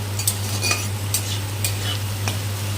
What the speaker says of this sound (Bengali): আলুটা ভালো করে ভেজে তুলে নিতে হবে